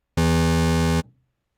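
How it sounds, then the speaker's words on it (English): A single sustained buzzy, reedy synthesizer tone held for under a second, then cut off with a short fading tail. "at which point we should hear a relatively reedy sound that sounds like this"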